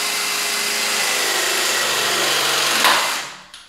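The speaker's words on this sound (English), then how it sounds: "Let's clamp that." Clamping tool pressing a multi-layer pipe connection, a steady mechanical whir that holds for nearly three seconds, then tapers off quickly, ending with a small click, close by with no talk.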